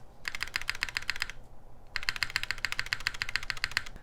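Rapid clacking keystrokes on an Element G67 custom mechanical keyboard with a stainless steel top and brass bottom, two close bursts of fast typing separated by a short pause.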